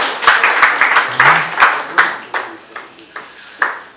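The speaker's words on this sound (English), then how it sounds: "Let's clap for ourselves." Rotary club members clap for themselves at a charter meeting, a small group's bursts of hand claps in uneven rhythm, loud and close, tapering off over a few seconds.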